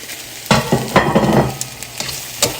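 Onions and mushrooms fry for hibachi in a pan, a loud close sizzle broken by repeated scraping stirs and clatter of a utensil, busy and irregular throughout.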